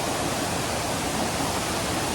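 Tan Rua Waterfall on Koh Samui gives a loud, even roar of falling water with no breaks, heard close up and filling the whole short stretch.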